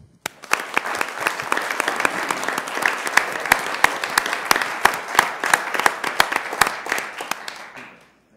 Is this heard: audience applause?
yes